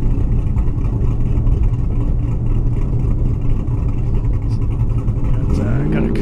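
A blue Ford Mustang races down an airstrip at a drag event, its engine a loud, steady roar that climbs in pitch toward the end as it revs. Voices sound faintly beneath.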